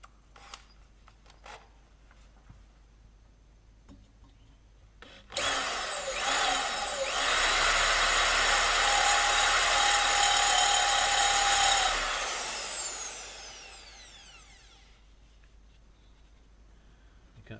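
A cheap Bosch electric drill bought from B&Q runs in one sustained burst of about seven seconds, a loud steady whine that spins up abruptly and winds down slowly, close to the mic.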